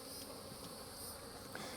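Honeybees hum inside an open hive during a beekeeping inspection, a quiet, steady buzzing drone with no talk.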